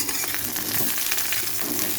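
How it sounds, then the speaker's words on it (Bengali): Eggplant pieces fry in hot oil with a loud, continuous close sizzle and crackle, broken only by faint stirring, with no one talking. "বেগুন ভেজে নিচ্ছি"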